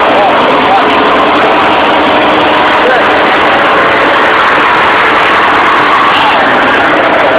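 An off-road tractor engine runs steadily and loudly up close for the whole stretch, a constant broadband rumble with no clear start-up moment; speech is faint or absent.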